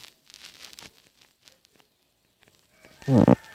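A Minecraft cow lets out one loud, short, buzzy moo near the end, preceded by faint game rustles and taps with no talk.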